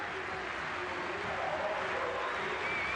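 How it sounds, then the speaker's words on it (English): A stadium crowd at an Argentina versus Venezuela football match applauds a Paris Saint-Germain player, a steady, moderately distant wash of clapping and crowd noise with a commentator talking over it. "Top applause again for the Paris Saint-Germain man."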